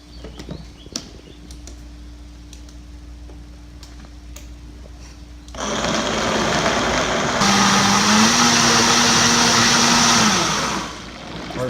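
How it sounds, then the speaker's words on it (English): A Vitamix blender making an acai berry smoothie starts up abruptly after a quiet stretch, then roars loudly and steadily for about six seconds, shifting pitch as the speed changes before it winds down. "Is that a Vitamix?"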